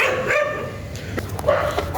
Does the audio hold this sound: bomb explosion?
no